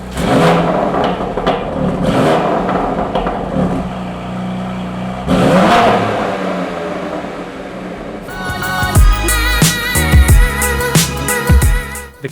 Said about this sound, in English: this is the Remus axle-back exhaust from the BMW M2 Competition